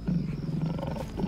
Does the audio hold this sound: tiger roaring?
yes